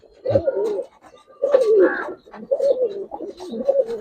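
Pigeons in a loft cooing close and loud, a series of throaty rolling coos in four or five bursts with short pauses between them.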